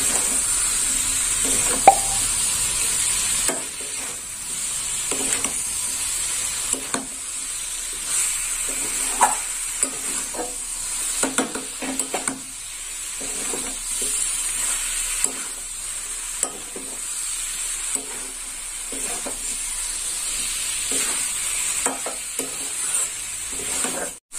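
Yardlong beans and fried potatoes stir-fried in a pan make a steady low sizzle with repeated scraping and stirring strokes throughout, close and moderately loud, without speech.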